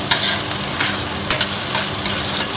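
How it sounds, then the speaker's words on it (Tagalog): Garlic and onion stir-frying quickly in a hot pan, a loud, close continuous sizzle broken by several sharp scrapes and clinks of the stirring utensil, with no talking. "Ang pag-stir fry po talaga dapat mabilisan."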